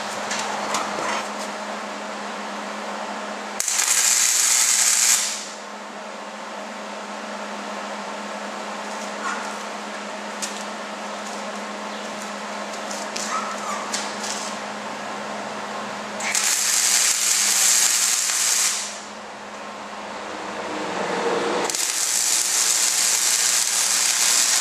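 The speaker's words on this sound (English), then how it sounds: "So I'm going to go ahead and get this welded on here." Welding a quarter-inch-thick platform onto a turbine spindle gives three bursts of harsh, hissing crackle, each lasting a few seconds, separated by a steady low workshop hum.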